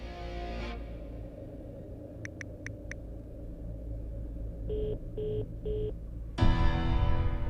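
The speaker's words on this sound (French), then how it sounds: "Et pourquoi son téléphone est-il occupé?" A telephone keypad dials a few quick tones over a low room hum, then three short repeating busy-signal beeps sound clearly before a burst of louder noise ends it.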